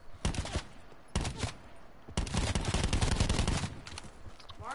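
Video game gunfire comes in loud bursts of rapid automatic shots, with short gaps between volleys and a long sustained stretch of fire.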